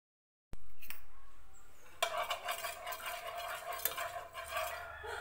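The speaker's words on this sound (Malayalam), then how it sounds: "ഓരോ പ്രാവശ്യവും എടുക്കുമ്പോഴും ഇതുപോലെ നമ്മൾ നന്നായിട്ട് ഇളക്കി കൊടുത്തിട്ട് വേണം എടുക്കാൻ" A spoon stirs semolina (rava) batter in a bowl, heard close as repeated scraping and soft clinking after a sharp initial knock, continuing steadily with no talking.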